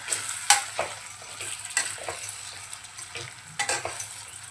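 Kadai chicken with fresh coriander is stirred in a hot pan, producing a series of close scraping and clattering strokes over a low sizzle, with no voices.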